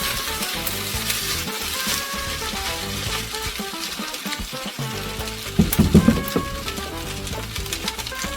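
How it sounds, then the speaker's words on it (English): Fried rice sizzles steadily in a hot pan at close range, with a brief burst of stirring and scraping near the end and no voices. "Then 1 more minute and the fried rice is ready."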